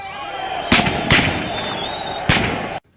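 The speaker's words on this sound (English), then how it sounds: "the streets echoed to the sound of" Three sharp cracks of gunfire echo through city streets during running battles in Zimbabwe, spaced a moment apart over a steady background hum.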